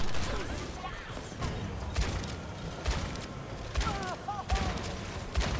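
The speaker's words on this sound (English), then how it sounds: "I'm missing every fucking shot!" Gunfire from the video game Overwatch crackles in rapid bursts and scattered shots under excited player chatter and other game effects, busy and fairly loud.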